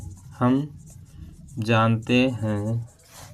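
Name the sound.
writing a math solution on paper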